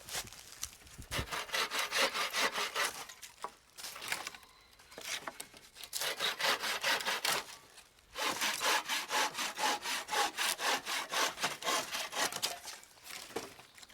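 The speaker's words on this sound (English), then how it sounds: "A folding bucksaw like this is ideal because it's easy to transport" A folding bucksaw cuts through dry wood in rhythmic back-and-forth strokes, close and crisp. Three runs of fast, even rasping are split by brief pauses.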